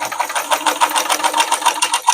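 A vintage sewing machine running with loose tension makes a steady, fast mechanical whir with an even rapid stitching pulse, loud and close, with no talking.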